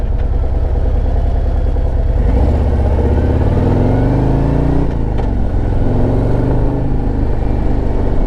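A 2024 Harley-Davidson Road Glide with a 117 engine rumbles loudly and close on a test ride, revving up through rising pitch, easing off briefly, then pulling again.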